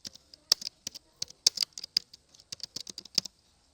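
Fingers type a name on a computer keyboard in a programming lesson, quick irregular clicks close to the microphone with brief pauses between keystrokes.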